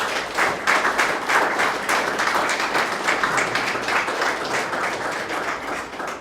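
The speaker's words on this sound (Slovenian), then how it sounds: "Jaz lepo prosim, da jim zaploskate" An audience at an architecture exhibition opening for the renovation of the SNG Drama theatre in Ljubljana applauds, producing dense, continuous clapping that stays loud and even throughout.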